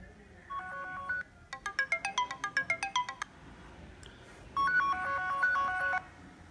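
A Samsung Galaxy S3 from 2012 running Android 10 plays a bright electronic ringtone: a chiming phrase, a rapid run of plucked staccato notes, then another sustained chime, clear and close with no talking.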